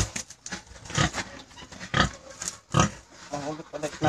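A breeding boar mounting a sow on a farm, with snorting pig grunts in repeated bursts heard close over people talking throughout.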